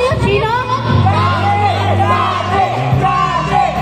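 A crowd cheers and yells for the seventh winner of a contest. The loud, continuous roar of voices and whoops holds steady for the whole moment.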